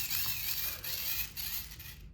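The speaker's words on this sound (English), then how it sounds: "but it also has a hand crank" Hand crank on an old survival-kit flashlight being turned, a steady close whirring and ratcheting mechanical grind with slight pulsing as the handle rotates, heard alone without voices.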